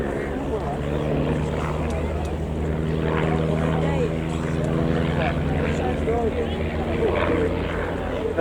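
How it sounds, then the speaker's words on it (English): Droning propeller of a de Havilland Chipmunk flying a crossover display at the RAF Cosford Airshow, a steady buzzing engine note that swells slightly as it passes, heard amid crowd and commentary murmur. "The Chipmunk was always a super display aeroplane as they come in for a crossover."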